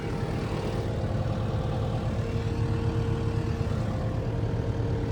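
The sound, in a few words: Kubota SVL95-2S skid steer engine running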